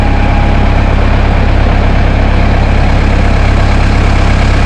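A Kubota M135GX tractor engine runs at about half throttle, giving a loud, steady, close-up diesel drone with a constant low rumble and no change in pace.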